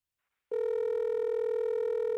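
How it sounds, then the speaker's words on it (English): A telephone dial tone begins abruptly after a short silence and holds as a steady, continuous hum, clear and alone. "And we got the dial tone."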